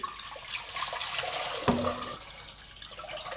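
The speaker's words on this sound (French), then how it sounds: "Pendant ce temps-là, je remplis une grande cocotte d'eau froide." Cold water runs steadily from a tap into a large cooking pot, a continuous splashing rush with a brief knock partway through.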